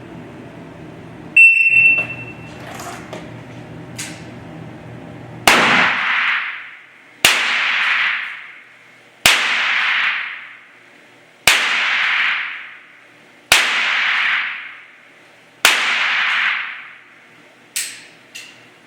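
Handgun shots fired at a proficiency test range, six sharp loud cracks spaced about two seconds apart in an even rhythm, each with a short ringing decay, preceded by a brief beep.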